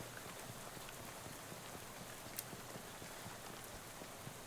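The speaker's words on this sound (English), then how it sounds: "I'll be right here waiting in the pouring rain" Steady rain in the video game Shadows Over Loathing, a dense even hiss of pouring rain with faint scattered drops, continuous and alone throughout.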